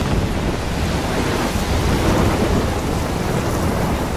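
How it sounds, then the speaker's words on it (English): Thunderstorm with heavy rain in the video game Life Is Strange, a loud, dense wash of pouring rain and deep rumbling thunder that stays constant throughout with no speech. "I'm trapped in a storm?"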